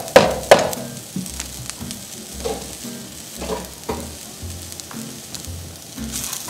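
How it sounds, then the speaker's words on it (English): Garlic and risotto rice toasting in a hot pan give off a steady sizzle, with a few sharper clinks and stirring scrapes early on and softer repeated bursts of frying throughout. "Then you toast again your garlic."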